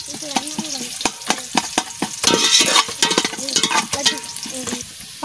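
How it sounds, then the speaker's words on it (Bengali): Onions fry in a pan for chicken pulao, giving a steady sizzle under frequent close scraping and clattering strokes of a spoon stirring, with a louder burst of hissing partway through. "ভালো করে দেখো পেঁয়াজ ভাজা ভাজা হয়ে গেছে, সবকিছু ভাজা ভাজা হয়ে গেছে।"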